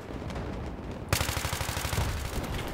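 Rapid gunfire in the shooter game Battlefield 3 during a Conquest round: a dense, loud run of overlapping shots starts abruptly after a quiet stretch and continues steadily to the end.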